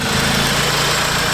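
The engine of an Audi S3 runs while misfiring severely, a loud, rough, uneven idle with a continuous low throb and pulsing vibration close to the listener, with no voices.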